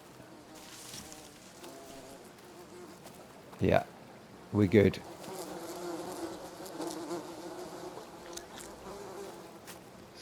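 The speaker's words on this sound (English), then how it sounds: "Have my bees produced honey yet?" Insect buzzing around a beehive in the jungle survival game Green Hell hums faintly and steadily, with a couple of brief louder bursts and a short spoken phrase over it.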